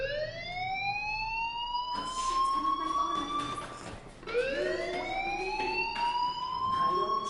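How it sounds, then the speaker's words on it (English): In a PS4 video game, a fire alarm sounds continuously with rising electronic siren-like sweeps that repeat, loud and steady, with no talking. "Hey, do you hear that fire alarm?"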